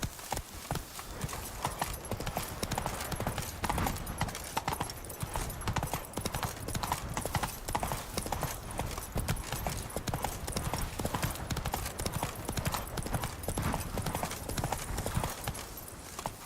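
Roach the horse in The Witcher 3 trotting continuously, a dense even clatter of hooves on ground with ambient game sound behind it and a faint snort.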